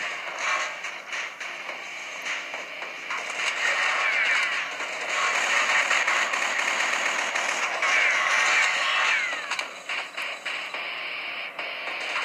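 Rapid gunfire from a 3D action game played on a Samsung Galaxy Tab 7.0 Plus, a dense continuous barrage of shots and mechanical effects that stays loud and steady throughout, with no talking.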